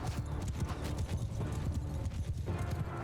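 Horse archers' hooves gallop in Mount & Blade II: Bannerlord, a dense, continuous drumming of many hoofbeats close by with a faint whinny, played at a steady rush with no talking.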